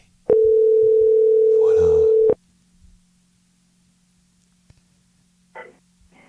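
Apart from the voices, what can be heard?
telephone ringing tone while calling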